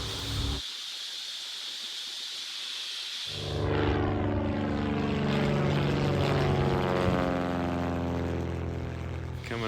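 A propeller tow plane drones steadily while towing a glider aloft over the Arizona desert, the engine noise swelling louder and rougher after a quieter opening stretch and holding a sustained, close roar.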